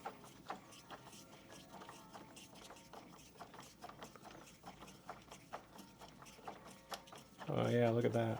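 A longer screw being driven into a Beatbot pool robot during disassembly, giving a run of close, rhythmic ratcheting clicks from a screwdriver, then a louder mechanical whir at the end.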